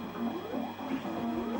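A homemade two-channel beeper sound engine produces a buzzy, chirping stream of rapid warbling tones, fairly quiet and continuous, with no talk over it.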